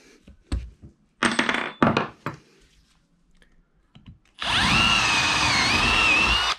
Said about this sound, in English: I was able to drill this one out too.